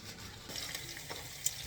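Meat frying in oil in a pan gives a quiet, steady sizzle with faint crackles and an occasional stirring scrape.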